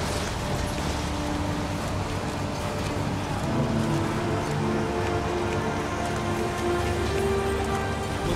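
Steady, dense rain in the video game Heavy Rain, a loud continuous hiss with a low drone beneath it and no voices.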